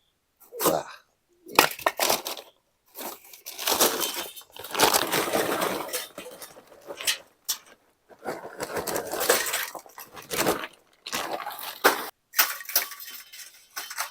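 Chunks of lump charcoal clatter and clink into a metal chimney starter in repeated bursts with short pauses between handfuls, close and fairly loud.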